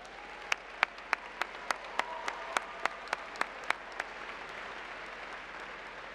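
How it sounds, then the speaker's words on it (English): A dozen or so sharp claps ring out in an even, steady rhythm at a university commencement, like a small group or single person clapping, fairly close, over quiet background. "I now ask that the graduates give a round of applause to the faculty"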